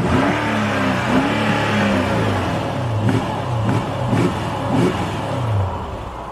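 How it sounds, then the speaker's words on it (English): A Mercedes CL500 V8 engine turns over and catches, then revs up and down several times in quick bursts, loud and close, settling back to a steady idle. "So let's start the engine."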